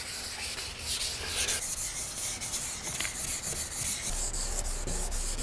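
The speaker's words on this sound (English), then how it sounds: "And now I have some 600 grit wet sanding paper that I'm gonna use to smooth everything out." Wet sanding of primer by hand with 600 grit sandpaper gives a close, continuous gritty rubbing with rhythmic back-and-forth strokes at moderate loudness, with no voices.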